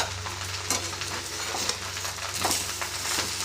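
Rice and eggplant fry in a pan with a steady, crackling sizzle, close and fairly loud. Occasional scraping stirs break through the sizzle.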